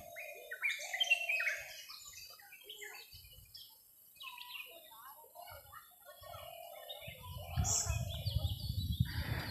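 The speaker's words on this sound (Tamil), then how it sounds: "காட்டுக்குள்ளே இருக்கிற குருவிகளோட சத்தம்" Small birds chirp and twitter in a Western Ghats forest, a busy scatter of short high calls near and far, with a low rumble building toward the end.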